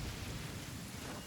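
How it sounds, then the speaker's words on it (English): Lightning storm in the video game Genshin Impact: dense, steady rain hisses while low thunder rumbles underneath, continuous and fairly loud throughout. "Uh-oh! Lightning storm!"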